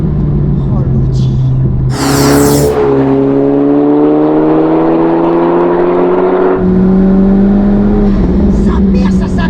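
A Honda Civic Type R FK2 with VTEC and turbo revs hard while driving, engine pitch climbing steadily through the gears with a brief whoosh, loud and close from inside the cabin.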